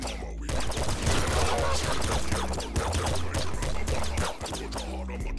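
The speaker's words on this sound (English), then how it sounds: "Okay, I've got a golden shotgun." Shots from a golden shotgun in Nuclear Throne, packed into a loud, chaotic, nearly continuous barrage of blasts and impacts over game music.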